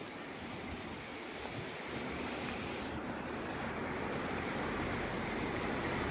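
Floodwater released from the Terna dam rushes in a continuous broadband roar, steady and even, heard from a distance and rising slightly midway, with no voices.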